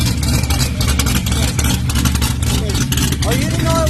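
A ProCharged 441 LSX engine in a C6 Corvette Z06 idles loudly up close, a dense, rumbling drone that stays steady throughout, with a voice speaking over it.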